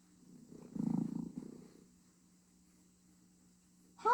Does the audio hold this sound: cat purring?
yes